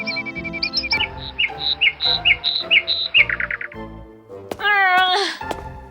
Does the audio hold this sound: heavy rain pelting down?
no